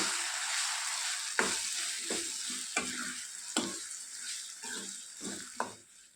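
Raw mango mixture frying in tempering oil, a bright continuous sizzle with several spoon scrapes and stirring knocks at irregular intervals, close by and alone.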